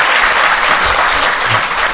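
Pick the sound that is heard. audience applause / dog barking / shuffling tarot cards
audience applause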